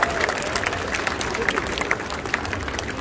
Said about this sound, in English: Give yourselves a round of applause for such a great audience.